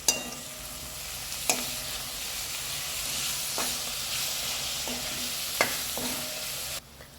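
Soft steady sizzle as tomatoes are stirred in a frying pan, punctuated by several sharp clicks of a spoon against the pan.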